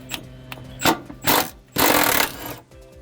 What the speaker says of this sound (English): take off these two 16mm bolts that hold the bearing carrier, just like so, using the 60mm socket with the impact wrench